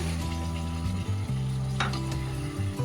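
Katla fish curry masala frying in a pan as a little water is poured over it, producing a loud, steady close sizzle with a few bright splashy bursts, no talking.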